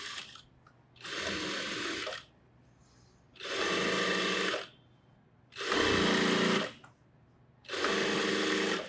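An electric sewing machine stitches an umbrella churidar in four loud, close bursts of about a second each, its motor whirring and needle chattering, separated by short quiet pauses.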